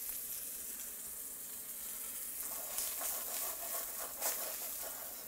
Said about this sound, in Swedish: Hjälper till med att lite olja runt där så får du igång stekningen.